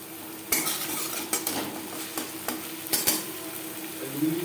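Spices with ginger paste and green chili paste fry in a little oil for a fish curry while a utensil scrapes and clinks against the pan, with soft sizzling between the sharp stirring knocks.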